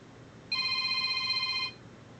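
A telephone rings once with a steady electronic tone lasting just over a second, heard fairly close in a quiet room during an airbrush compressor teardown.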